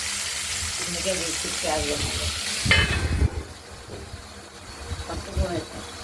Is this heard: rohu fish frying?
yes